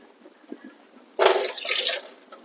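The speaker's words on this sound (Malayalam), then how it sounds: "പിന്നെ നമുക്കൊന്ന് ചുക്ക് കഴുകി എടുക്കുക" Dry ginger rinsed under running water, a sudden loud splash and gush that begins just past the midpoint and runs steadily for under a second before stopping, with only faint small kitchen sounds before it.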